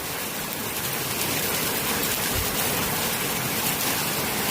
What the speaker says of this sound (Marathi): पाऊस याच स्पीडनं पडालेला आहे.